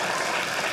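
A short, loud burst of clapping from the crowd at a stand-up comedy show, dense and even, with many hands going at once.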